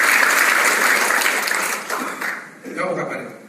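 Audience applause at a talk on gratitude and staying healthy, a dense steady wash of clapping that thins and fades toward the end, with voices murmuring underneath.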